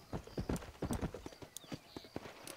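Horse hooves clip-clop at a steady gallop in the Red Dead Redemption video game, close and rhythmic, with a few brief sharp sounds over the hoofbeats.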